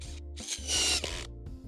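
A power driver runs screws into a small wooden end stop fitted to a length of recycled guttering, two or three short whirring bursts separated by brief pauses, close and fairly loud.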